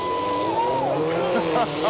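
A rally car at the 2008 X-Games super special roars past with a falling engine pitch and a touch of tire squeal, loud and close over crowd noise.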